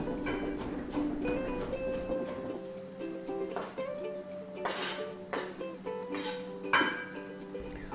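Knife chopping cooked eggplant flesh on a board for baba ganoush, a steady series of soft, close taps and knocks, with faint clinks from utensils in a quiet kitchen.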